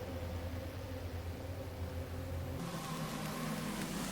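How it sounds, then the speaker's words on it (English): A racing car engine drones steadily with a tonal whine while the car drifts around Brands Hatch Indy in a racing game, holding a constant pitch before shifting to a broader, noisier roar. "a little bit of drifting here"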